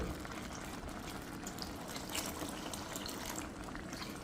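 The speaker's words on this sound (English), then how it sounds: "I'm gonna add just a little bit of water to this" Water is poured into a pot of simmering lentils and split peas, giving a steady, continuous splashing trickle that is fairly faint and close.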